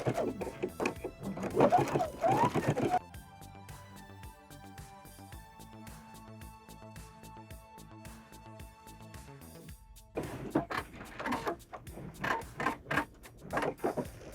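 Sewing machine edge-stitching down the front of a blazer being remade into a dress, running as a steady mechanical whir for several seconds with faint handling noise and rustling before and after.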